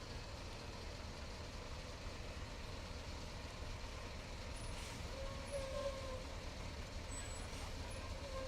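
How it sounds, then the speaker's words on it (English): A heavy 4-axle haulage tractor unit with air brakes rumbles steadily nearby with a low engine drone, punctuated by faint hissing air releases. "The heavy loads were hauled using powerful 4-axle tractor units"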